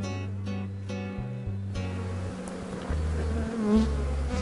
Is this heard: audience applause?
no